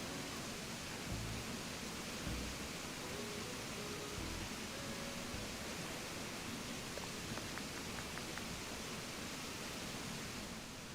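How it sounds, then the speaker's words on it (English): Waterfalls in Animal Crossing: New Horizons rush with a constant, broadband hiss, steady and unbroken, while faint soft game chimes sound briefly underneath. "the waterfalls are quite loud on the old ears"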